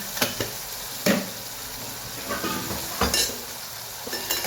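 Sugar and jaggery being stirred into a hot cooking pan, with soft sizzling throughout and a few sharp clinks of a utensil against the pan, fairly close and steady with no talking.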